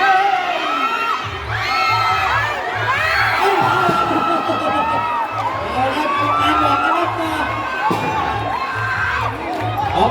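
Supporters cheer and shout at a community futsal final in Bangkok's Prawet district, a loud, steady crowd roar with whoops and children's yells and a regular low thumping beat underneath, while a voice talks over the noise.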